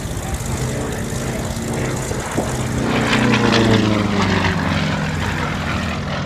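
A propeller airplane engine drones steadily and loudly throughout an aerobatic display, its pitch shifting and swelling as the aircraft rolls and climbs vertically.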